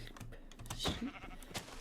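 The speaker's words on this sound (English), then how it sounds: "We can spot a whole herd of sheep" A single short sheep bleat from Minecraft, faint and soft, with light clicking around it.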